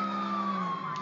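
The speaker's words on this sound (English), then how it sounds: "Why is that ambulance following me?" An ambulance siren in the video game Grand Theft Auto 4 wails in a steady, sustained tone for about a second, fairly loud and close, with no talking.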